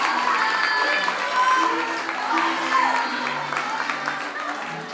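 A crowd applauds steadily at a school graduation party, dense clapping filling the room, with voices murmuring and a speaker's voice faintly underneath.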